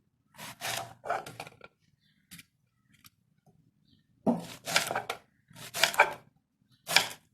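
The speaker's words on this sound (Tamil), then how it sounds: "மனையும் கத்தியும் காயும் ஈரமாக இல்லை அப்படின்னா உங்களுக்கு நறுக்கிறது ரொம்ப ரொம்ப ஈஸி" Knife chopping okra (ladies finger) on a cutting board, a few quick crisp cuts in two clusters separated by a quiet gap, close and clear with no talk.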